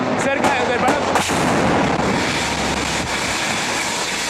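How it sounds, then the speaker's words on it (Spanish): A rocket fired from a Bronco aircraft strikes near the Miraflores Palace in Caracas, heard as a sharp blast followed by a long, loud, roaring rumble that fills the whole stretch. "acaba de caer un cohete cerca del Palacio de Miraflores"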